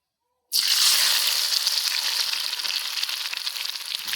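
After half a second of silence, jackfruit pieces hit hot oil for chips and burst into a loud, bubbling, crackling sizzle that continues steadily, easing only slightly.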